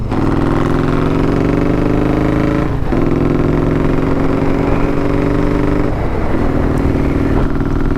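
A 1994 motorcycle engine drones loud and close throughout a ride, a steady throaty hum with brief dips around three and six seconds where the revs shift, then picks back up.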